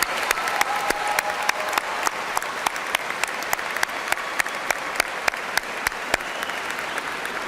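A commencement crowd at Eastern Kentucky University's Spring 2018 College of Business & Technology ceremony applauds first-generation graduates, a sustained roar of clapping with sharp individual claps standing out nearby.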